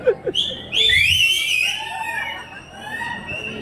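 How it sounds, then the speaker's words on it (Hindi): A person whistles a short, shrill tune on request, with sharp rising and falling pitch glides that fade into a quieter wavering whistle, indoors with faint background noise. "बजा के दिखाओ सीटी कैसे बजाते हैं।"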